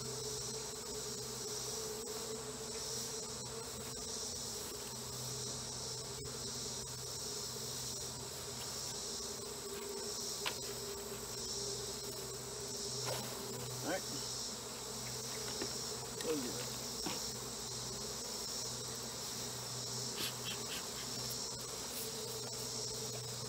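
A steady, dense insect drone of many honey bees buzzing together at an open hive, constant and fairly close, with no talking over it.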